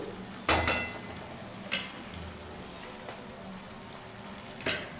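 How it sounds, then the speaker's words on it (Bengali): Egg chilli being stirred in a frying pan, a soft steady sizzle broken by a few sharp scrapes and knocks of the spoon against the pan, fairly quiet and close. "এবার ভালো করে নাড়িয়ে নেব"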